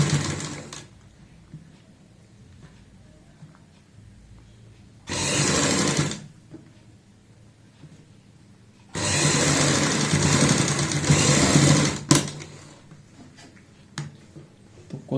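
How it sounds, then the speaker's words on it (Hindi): Close electric sewing machine stitching a coat collar onto a kurti, running in two bursts of about one and three seconds separated by quiet pauses with light handling noise. "दूसरी साइड का भी हम मार्जिन अंदर की साइड डालते हुए यहाँ पे ऊपर से सिलाई लगाएंगे।"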